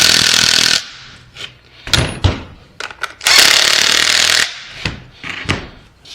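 Bolts being tightened on the front end of a 1962 Corvair during reassembly: several sharp, loud bursts of tool noise with short metallic clicks between them, close up and with no talk.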